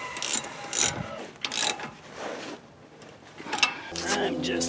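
Ratchet with a deep socket tightening the outer tie rod on a Ford F-250, several quick bursts of close clicking separated by short pauses, ending in a softer metallic rattle.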